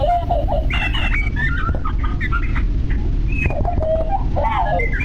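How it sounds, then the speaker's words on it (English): Birds chirp and warble in a greenhouse in the video game The Outer Worlds, with scattered bright calls over a steady low ambient hum. "Do they just have speakers hidden under the tables that make bird sounds?"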